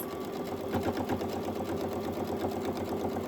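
Sewing machine stitching fabric for a machine cover runs in a fast, steady mechanical whir with a rapid pulsing needle rhythm, close and unbroken.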